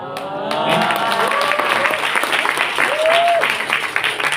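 An audience claps at a youth event, a dense burst of applause that swells and holds, with a voice talking over it and a brief squeal of feedback partway through.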